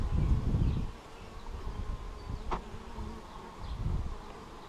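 Honey bees buzz softly and continuously around the listener near a hive frame, a faint droning hum with a few closer passes and low rumbling handling noise at times.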